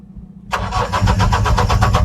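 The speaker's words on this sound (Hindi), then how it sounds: "गाड़ी न्यूट्रल पोजीशन में है और एक बार क्रैंकिंग करके देख रहे हैं हमारा सेल्फ ले रहा है कि नहीं" Mahindra Bolero pickup with a BS4 engine, in neutral, cranking on its starter motor after a brief silence: a loud, steady rhythmic chugging of quick, even pulses that does not catch.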